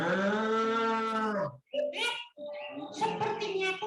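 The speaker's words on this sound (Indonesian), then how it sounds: "Sepertinya aku mendengar suara sapi." A cow gives one long, drawn-out moo that fades after about a second and a half, followed by close voices, including a child's, talking.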